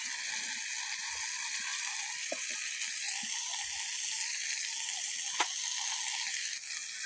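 Vegetables frying in a pan for a village-style labra dish, a soft steady sizzle with a few scattered scrapes and knocks as a spatula turns them, including one sharp click near the end, with no talking.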